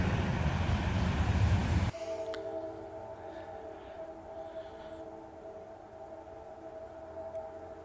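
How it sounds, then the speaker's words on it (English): A distant train horn sounds as a steady sustained tone after a loud rustling burst, holding for several seconds over quiet outdoor ambience near a railroad track with a bend. "You hear the horn."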